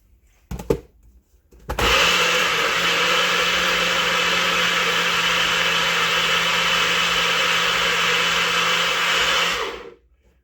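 A blender whirs steadily for about eight seconds, mixing a sauce with oregano; a few brief clicks come before it starts and the motor cuts off cleanly at the end.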